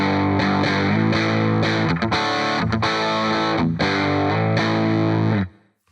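Heavily distorted electric guitar through a Line 6 Spider V 20 combo set to a Marshall Plexi Lead 100 model, playing loud, dense sustained chords with rhythmic breaks, ending abruptly.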